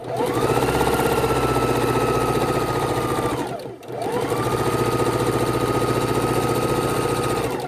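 A loud, cleaned-up sewing machine stitches quilt seams, running at a steady fast hum that briefly slows and stops midway, then starts up again and runs continuously.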